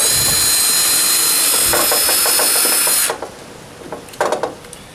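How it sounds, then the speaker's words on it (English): A power drill whines loudly and steadily for about three seconds, drilling a pilot hole in wood, then stops, followed by a few light clicks and knocks nearby. "I'm going to go ahead and drill a little pilot hole in there"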